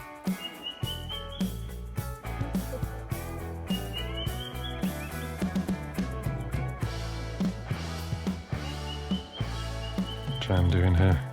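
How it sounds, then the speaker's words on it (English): A bird in the Laos jungle calls loudly and persistently near a treehouse at dinnertime, its repeated chirping phrases rising over a dense bed of rhythmic tonal background sound. "Wish that bird would turn it down a bit."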